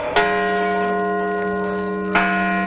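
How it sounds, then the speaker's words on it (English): Bells ringing at an outdoor Martin Luther King Jr. memorial ceremony in a park at Montana State University Billings, two loud strikes about two seconds apart with long humming tones sustained between them. "The ringing of the bells at MSU Billings"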